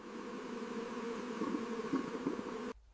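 A swarm of bees buzzing around a wild hive, a steady, dense drone that holds close and loud for nearly three seconds before cutting off abruptly.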